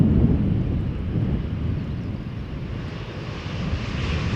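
An ITA Airways airliner rolls along a runway at Schiphol Airport, producing a loud, continuous low jet-engine roar with wind buffeting the microphone throughout.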